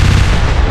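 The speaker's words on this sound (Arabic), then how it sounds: "إطلاق نار مباشر" Gunfire in a dramatized assassination on a narrow Cairo street, a dense, very loud burst of rapid shots rolling together into one continuous booming roar.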